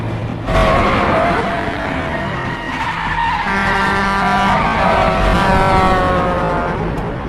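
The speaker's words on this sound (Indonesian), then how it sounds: "Ia mengendarai mobilnya dengan cepat hingga akhirnya kedua mobil berhenti di suatu tempat." A car speeds through a film chase scene with loud, continuous engine roar and tire skidding squeals building throughout, close and dominant.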